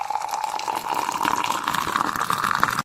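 Hot water pours steadily into a glass for tea made with milk powder, a continuous liquid gush that rises in pitch as the glass fills, then cuts off abruptly.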